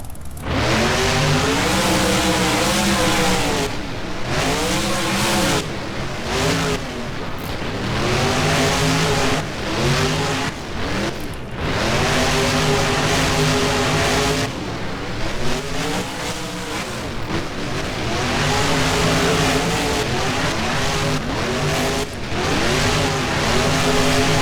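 Monster truck engines roar and rev loudly throughout an Arlington race in BeamNG, with repeated rising and falling pitch sweeps as drivers accelerate and shift, continuous and close with no talking.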